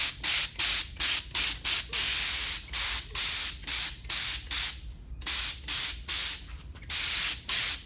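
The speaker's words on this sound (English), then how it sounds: "I'll take 4 or 5 passes at it, and I'll spray them all out." A spray gun lays finish coats onto wooden door jamb units in a series of about twenty short, evenly spaced hissing bursts. Each burst is loud and close, separated by brief pauses, with no talking.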